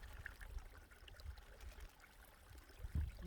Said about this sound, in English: carefully put it in the stream of water